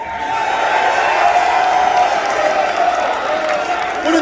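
A large arena crowd at Madison Square Garden in New York cheers steadily at a UFC event involving Kamaru Usman and Colby Covington, a dense, continuous roar with whoops that holds at a constant loud level throughout.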